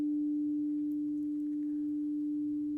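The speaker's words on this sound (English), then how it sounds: "the companion bowl to the 24 karat bowl that Marion just played" A 24 karat singing bowl rings with one steady, pure sustained tone, faint and even throughout with no talking.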